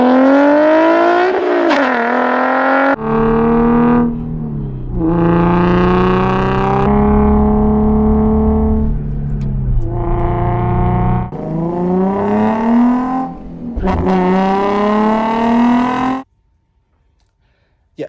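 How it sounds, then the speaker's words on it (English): A VQ engine with a Motordyne exhaust revving close and loud, rising and falling through several throttle blips with a raspy harmonic tone, then cutting to near silence at the end. "It sounds great. It's the best sounded VQ exhaust."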